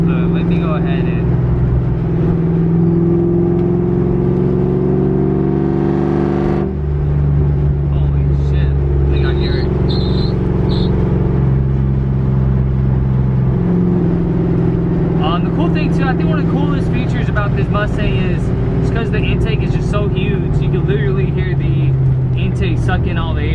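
A rag-top car over 20 years old, with an intake that gulps air like a blower, idles and revs in a garage, a loud steady engine drone with pitch rises and falls and a clear rev near the middle, with faint voices over it.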